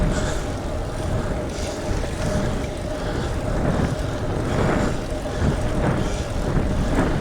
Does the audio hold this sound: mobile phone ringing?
no